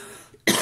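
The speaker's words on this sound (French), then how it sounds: "Excusez-moi, je tousse." A single sharp, loud cough bursts out after a brief quiet moment, close to the listener.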